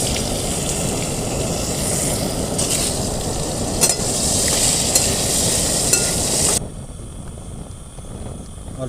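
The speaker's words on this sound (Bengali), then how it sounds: "ডিমটা হয়ে গেছে, আলুগুলো একটু ভেজে নেব।" Boiled potatoes fry in oil in a pan, a steady loud sizzle with occasional stirring clatter, which drops off sharply near the end to a quieter hiss.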